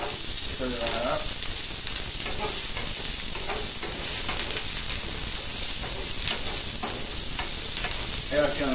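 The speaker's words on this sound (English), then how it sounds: "We're going to add the onions to the potatoes. These purple potatoes are browning nicely on the edges. We got onions. Stir that up." Onions being stirred into purple potatoes browning in a hot pan, a steady sizzle with scraping stir strokes throughout, close and fairly loud, with a voice talking faintly at moments.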